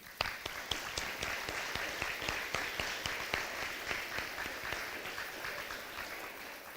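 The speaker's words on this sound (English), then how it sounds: "I think our kids deserve a round of applause." An audience applauds the kids at an elementary school gym dedication and ribbon cutting, with steady, moderately distant clapping that stays even throughout.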